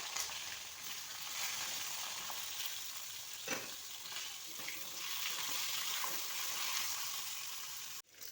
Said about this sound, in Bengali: তারপর এই মাছ ভাজা তেলেই আমি বেগুনগুলোকে হালকা ফ্রাই করে নেব।